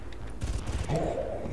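A burst of rapid gunfire crackles in the video game Far Cry, several quick shots followed by a sustained rumbling tail, fairly loud with no talking.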